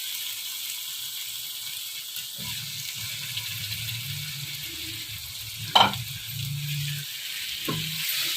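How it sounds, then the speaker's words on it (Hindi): Meat sizzling as it is sautéed in bhuna masala, with oil already separating: a steady, moderate frying hiss, one sharp clack of a utensil against the pan partway through, and a softer knock near the end. "गोश्त को 1 मिनट के लिए मसाले में भूनेंगे।"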